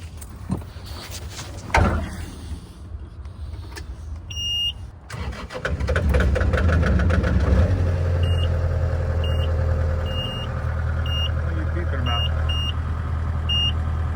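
A John Deere TL6 engine cranks and starts, then runs at a steady idle nearby while a warning beeper chirps repeatedly and evenly over the engine noise.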